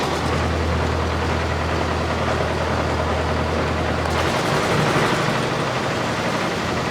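A tractor engine runs steadily during field testing of a reaper, a loud, close, even drone with a deep low hum that shifts and lightens a little after about four seconds.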